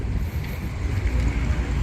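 Strong winter wind buffets a microphone outdoors in a snowy Canadian parking lot, a steady low roar with gusty rumbling throughout and no voices.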